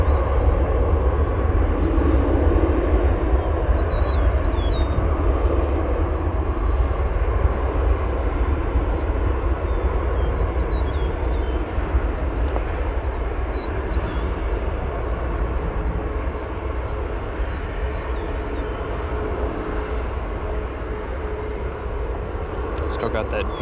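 A Viva Aerobus Airbus A320neo airliner rumbles steadily at O'Hare Airport, a broad, continuous engine roar from a moderate distance with faint birdsong chirps above it throughout.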